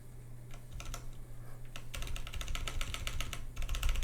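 Rapid clacking keystrokes on a custom DBD x GSD CCRE prototype mechanical keyboard, including a backspace key that sounds off from a possible faulty stabilizer, steady close-up typing that grows busier and louder halfway through.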